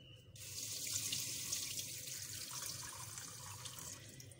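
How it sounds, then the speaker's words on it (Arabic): Tap water runs steadily into a sink while sesame seeds are rinsed in a strainer, a continuous close hiss and splash that starts abruptly and holds for several seconds. "كنزيد الماء."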